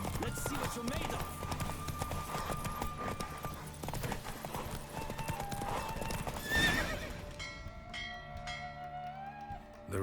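Roach, a horse in The Witcher 3, gallops in a race, with steady clip-clop hoofbeats and a whinny over a dense game music bed, loud and close throughout.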